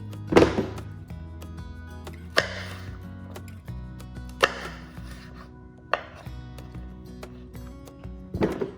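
A knife chops cucumbers on a board for canning dill pickles, with a series of sharp, close thunks spaced a second or two apart over a quiet kitchen background.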